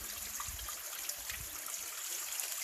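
Water runs and trickles steadily inside a cold abandoned copper mine set in ancient oak woodland, a soft continuous flow with faint low thumps beneath it.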